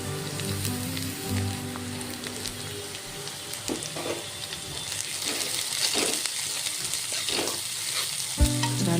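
Grated carrots and spring onion greens sauté in a pan for a quick carrot sabji, a dense, crackling sizzle with repeated stirring scrapes, close and steady, ending with a sharper clatter, and no one speaking.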